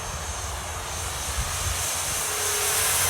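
An E-flite Turbo Timber Evolution RC plane's electric motor runs at full power on a 3S battery, a loud, steady whining drone that swells slightly as the plane climbs out.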